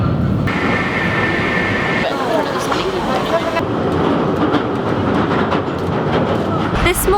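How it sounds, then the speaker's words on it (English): A train pulls into a station platform, a steady loud rumble of rail and carriage noise with rattling clatter throughout, voices talking over it. "the choo-choo's coming"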